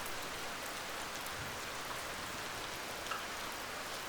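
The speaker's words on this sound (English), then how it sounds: "That's the rain easing off a little bit." Rain falls steadily on a Scottish mountain hillside near Creag Meagaidh, a soft, even hiss of drops that stays faint and constant, with no voices.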